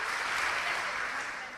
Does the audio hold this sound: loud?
yes